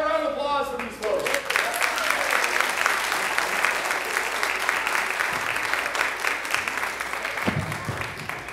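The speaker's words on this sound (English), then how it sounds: "Can I have a round of applause for these folks?" Church congregation applauding performers after an Easter scene, sustained and full clapping from a large crowd that holds steady throughout, following a brief bit of speech at the start.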